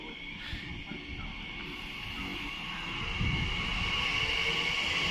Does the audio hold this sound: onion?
no